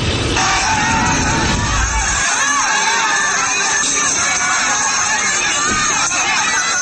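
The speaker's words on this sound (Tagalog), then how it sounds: "Nagkatulakan, balyahan at sigawan matapos dumating ang mga pulis." Loud, dense crowd commotion at a bingo game on Tabuting Street in Manila as police arrive, with people pushing and shouting together in a continuous, chaotic roar of overlapping voices.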